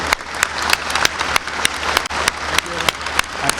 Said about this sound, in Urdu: آپ تالیوں سے ان کی اور ان کی ٹیم کی بھرپور ستائش کریں.